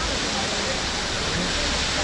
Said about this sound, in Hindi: यहाँ पूरे पीछे देखिए क्या बढ़िया झरना गिर रहा है यहाँ पे